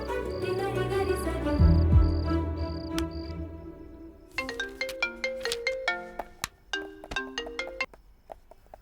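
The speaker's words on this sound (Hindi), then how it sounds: "रमेश को कॉल करती हूँ।" A phone rings repeatedly while a call is placed in a Hindi-dubbed Telugu action love-story film: a series of short, evenly spaced electronic beeps over low background music, then bright plucked musical notes take over.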